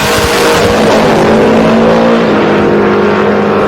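A 1987 Mustang with the Aero Nose drag racing down the strip at an event: a loud, sustained engine roar fills the whole stretch, steady and powerful with a slight pitch drift as it pulls away.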